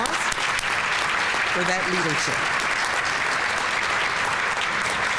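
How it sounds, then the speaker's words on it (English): A luncheon audience breaks into steady, dense applause that stays loud and even throughout, with a brief voice heard over the clapping near the start. "So another round of applause"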